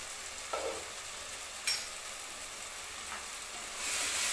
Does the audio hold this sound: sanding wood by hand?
no